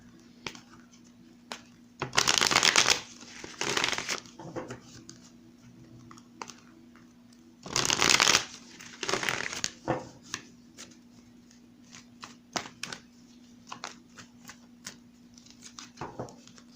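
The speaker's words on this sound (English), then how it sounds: "Let me do a shuffle." Tarot cards are riffled and shuffled in two loud bursts, with lighter clicks and taps between them and a steady low hum underneath.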